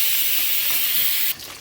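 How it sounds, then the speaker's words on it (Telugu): A pressure cooker cooking dal lets out a loud, steady whistling hiss of escaping steam that cuts off abruptly after about a second and a half, leaving quieter background. "పప్పు కూడా విజిల్స్ వచ్చేస్తున్నాయి"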